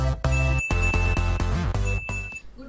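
A notification bell jingle plays as a short electronic melody of bright chiming tones in quick succession, loud and clean with no talking.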